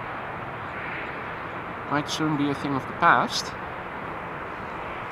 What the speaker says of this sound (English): So beautifully liveried small planes like these